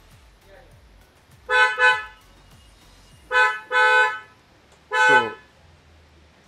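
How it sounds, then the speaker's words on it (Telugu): A Maruti Fronx is fitted with a Skoda/Volkswagen-style car horn. It sounds loud and close in five tonal toots: two quick pairs and then a single blast, with quiet idle between them. "సో మనం ఆ హారన్ని జనరల్గా స్కోడా హారన్, వోల్క్స్వాగన్ హారన్ అంటారు. ఈ హారన్ కూడా మనం మార్చాము."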